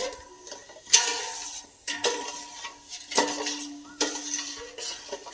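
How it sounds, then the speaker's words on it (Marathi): Chickpea dal and sugar stirred in a pot for ladoos, with repeated metal clanks of the spoon against the pan at roughly one-second intervals amid soft scraping. "साखर विरघळेपर्यंत हलवत राहायचं"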